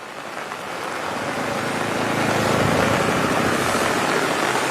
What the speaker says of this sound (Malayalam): തിരുവനന്തപുരത്ത് ഉച്ച മുതൽ അതിശക്തമായ മഴ